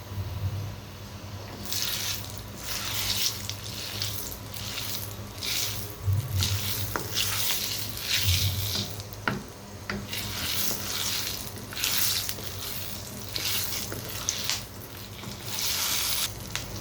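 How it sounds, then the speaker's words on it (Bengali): Bay leaves, cloves and cinnamon sizzle in a pan of hot oil and ghee, a steady crackling fry with bursts of spatter and scraping, fairly close and without voices. "আমি 1 কাপ তেল আর 1 কাপ ঘি চুলায় দিয়ে নিয়েছি। তার মধ্যে এখন হচ্ছে আমি তেজপাতা, লং, দারচিনি একসাথে দিয়ে দিচ্ছি।"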